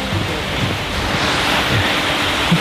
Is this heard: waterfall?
yes